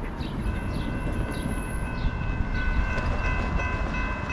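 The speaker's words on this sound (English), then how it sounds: "We got a short train coming." A short CSX freight train of 56 axles rumbles steadily past close by at 48 miles an hour, wheels clattering over the rails under a continuous low roar, with a faint high squeal.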